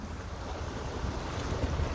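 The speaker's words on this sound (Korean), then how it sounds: "바람이 너무 해요. 바람을 안고 낚시하니까 너무 힘들어요." Strong wind on a seaside fishing spot on Somaemuldo island, loud continuous gusting roar buffeting the microphone with rough low rumble and no voices.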